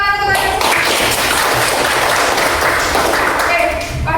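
Students in a classroom applauding together, a dense burst of many hands clapping close by, mixed with children's voices.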